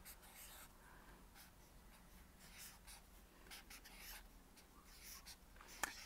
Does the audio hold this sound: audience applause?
no